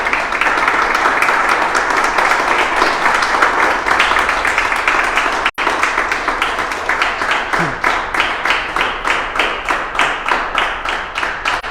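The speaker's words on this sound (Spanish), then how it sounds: "Dele palmas al Rey de Reyes." A church congregation claps together during a Spanish-language midweek devotional service, a dense, steady wash of many hands near and all around, with the claps growing more sharply rhythmic and in unison toward the end.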